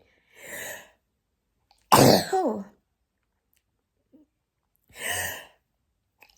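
Three separate sneezes, spaced a couple of seconds apart, close and sharp, with a brief vocal exclamation after the middle one and silence between.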